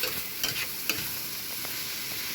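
Water sizzles in the bottom of a hot stainless steel pan, a steady close hiss with a few faint pops and clicks and no voices.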